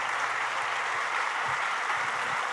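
A church congregation breaks into loud, dense applause during a sermon, a steady wash of many hands clapping together that holds at an even level throughout.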